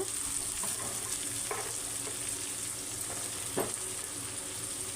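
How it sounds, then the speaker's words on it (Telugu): Soaked raw lentils, unboiled, frying in oil for a tamarind-leaf dal curry: a soft, steady sizzle with a few scraping stirs of the pan, heard close with no voices. "ఇది కొంచెం ఆయిల్లో ఫ్రై అయిన తర్వాత ఉప్పు కారం వేసుకుందాం"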